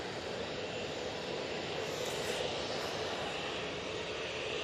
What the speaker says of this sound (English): this is easyJet coming on now